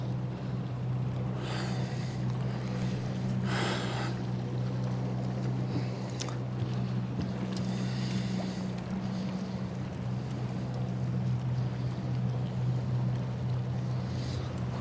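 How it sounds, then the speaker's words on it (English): Motorboat engine running steadily in reverse on the Cowlitz River while towing a paddle boat, a constant low drone with wind buffeting the microphone throughout, no talk. "Swing the boat around in reverse and just tow this thing."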